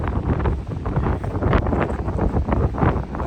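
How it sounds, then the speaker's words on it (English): Strong gusting wind roars and buffets the microphone continuously, loud and rough, with no other sound standing out. "It is so windy"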